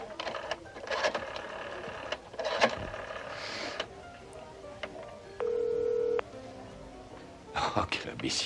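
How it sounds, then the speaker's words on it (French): Telephone number dialed by hand on a phone, a sequence of short beeping tones with one long sustained tone, mixed with handset clicks and rustling, close and moderately loud with no speech. "je viens de composer mon numéro"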